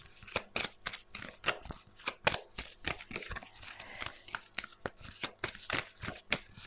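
Tarot cards shuffled by hand, a steady run of crisp riffling flicks and soft slaps repeating about every half second, close and fairly quiet with no talking.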